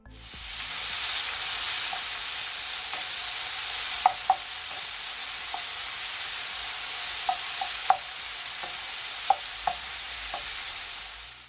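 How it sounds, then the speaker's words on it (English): Bacon fries in hot olive oil in a pot with a steady, dense sizzle, broken by occasional light clinks of stirring against the pot, close and constant. "So now guys, I'm gonna fry my bacon."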